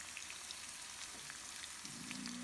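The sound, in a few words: leek and garlic frying in a pan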